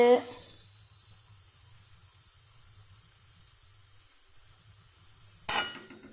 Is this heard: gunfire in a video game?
no